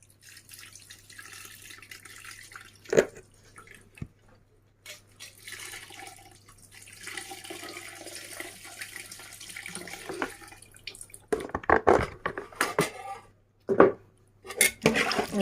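Mixed juice pours into a pot of village-style fish curry, with liquid splashing and trickling in several bursts, plus a few clinks of utensils against the pot near the end.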